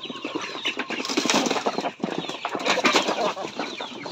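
A flock of native backyard chickens clucks and stirs in a busy, continuous chatter, close and fairly loud, with rustling mixed in.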